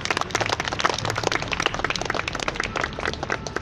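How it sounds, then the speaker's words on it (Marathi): Audience applause at a Mumbai fire service week awards event, a steady wash of many hands clapping, fairly close and sustained for a few seconds without speech. "टाळ्यांचा आवाज जरा कमी झाल्यासारखा वाटतोय का?"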